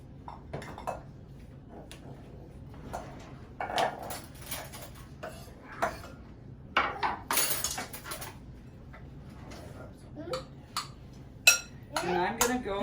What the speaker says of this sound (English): as I just stir these things together